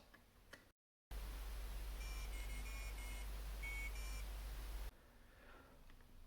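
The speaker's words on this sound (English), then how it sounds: "a short melody plays via a small piezo buzzer inside, although it is very, very quiet" A tiny piezo buzzer inside a DIY toddler busy board plays a short, thin beeping tune, high and faint, over a steady hiss of background noise.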